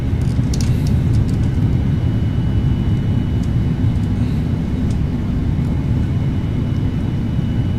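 Thrust reversers of a Boeing 787-9 on landing in the Prepar3D flight simulator produce a loud, steady, broadband engine roar, constant and unbroken from start to finish with no talking.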